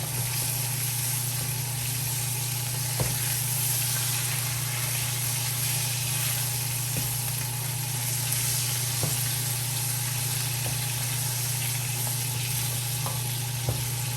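Sirloin steak sizzles in garlic butter in a frying pan, a loud steady hiss over a low constant hum, with occasional soft taps from flipping.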